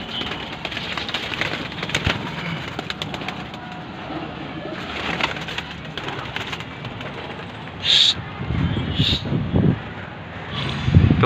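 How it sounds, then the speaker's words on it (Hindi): Pigeons coo softly under ongoing talk, with flapping and rustling bursts near the end as birds take off and move about. "ये उड़ रहे भाई कबूतर, देख लो आप, ये हमने सब कबूतर उड़ा दिए।"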